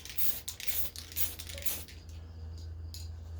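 Tamiya PS-46 iridescent purple/green spray paint hissing onto a Mercedes G500 body in short bursts, loud and close, alternating with pauses over a low hum.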